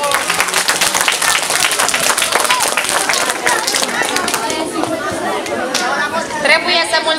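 A crowd claps and applauds for Santa Claus at a Christmas show in Stoina, Romania. The clapping is dense, steady and close for the whole stretch, mixed with chatter and voices.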